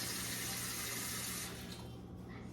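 Tap water running into a cooking pot for grits, a steady gushing stream that softens and changes tone partway as the pot fills.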